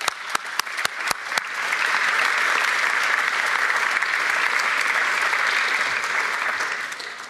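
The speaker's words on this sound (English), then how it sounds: "Let me welcome you and give you some applause," A livestreamed bell-ringing celebration audience breaks into sustained applause for Mr. Boniqua and his team, opening with a few sharp isolated claps before swelling into a dense, steady ovation that fades slightly at the end.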